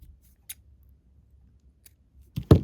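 Scissors snip through a piece of twine in one short, crisp cut at close range near the end, after a faint click and near silence in a quiet crafting setting.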